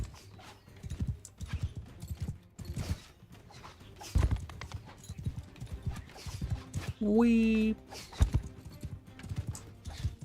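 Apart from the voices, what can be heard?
horse galloping in Mount and Blade video game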